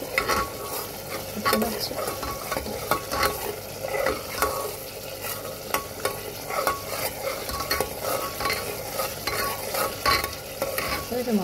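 Spice paste (masala) for a chickpea chola dish fries and gets stirred in a pan, a constant sizzle broken by repeated scraping strokes of a spoon, with a brief spoken question.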